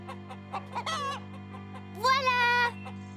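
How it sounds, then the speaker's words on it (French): Cartoon chickens in a henhouse, a few short clucks followed by two longer drawn-out squawking calls, clear and close over a steady synthetic hum, no talk. "Tu veux voir le poulailler, Caillou? La poule a peut-être pondu des œufs."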